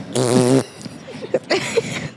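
A loud, long, buzzing fart lasts about half a second up close, followed by a few faint crackly pops and scrapes in a quiet room.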